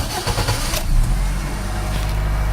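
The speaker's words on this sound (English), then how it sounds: "now we're gonna start the car" Honda Fit engine cranking and catching after a coil replacement for a misfire, loud and close, a brief starter whir that settles into a steady, even idle.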